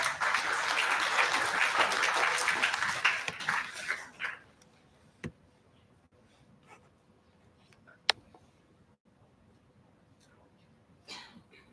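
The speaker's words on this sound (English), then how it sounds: "Let's put up a big round of applause." An audience at an international conference on intelligent systems gives a round of applause, loud and dense for about four seconds, then dies away into a quiet room with scattered faint knocks, a sharp tap and murmurs.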